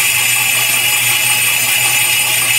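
Rawhide shaving machine working over a dried deer cape, its blade giving off a loud, steady, unbroken whirring rasp up close with no pauses.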